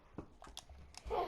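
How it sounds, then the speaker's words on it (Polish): A dog makes a few short, quiet whimpering and snuffling noises close by, ending in a brief louder huff. "Przepraszam za mojego psa w, w realu."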